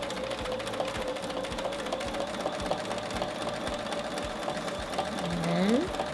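A sewing machine quilting along a ruler runs steadily and close by, its needle ticking in a fast, even rhythm over a constant motor whir, with a brief rising whine near the end.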